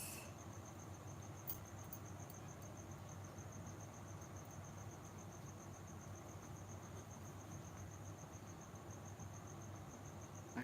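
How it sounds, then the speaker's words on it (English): Crickets chirp steadily throughout with a faint, continuous high trill over a low outdoor hum near a dirt hole, with no voices. "It's crickets."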